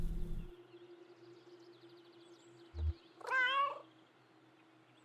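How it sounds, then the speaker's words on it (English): A cat in the Kentucky Route Zero video game gives one rising, inquisitive meow over a faint steady ambient hum, with a soft thump just before it. "Inquisitive meow."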